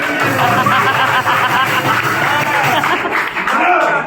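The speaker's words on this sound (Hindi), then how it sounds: "ताली बजा दीजिए।" An outdoor audience claps steadily through a Nukkad Natak street play for a Swachhta Pakhwada clean-India event, with a dense, sustained patter and the crowd murmuring beneath it.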